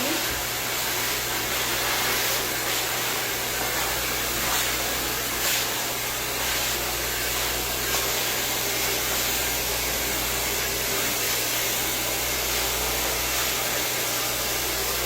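A hair dryer blows hair dry during a bob haircut, a loud, steady whooshing roar that continues unbroken from start to finish.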